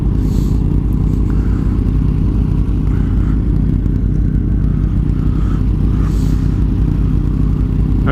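A motorcycle fitted with a very small exhaust rumbles loudly and steadily up close, with a deep continuous engine drone and faint clatter over it.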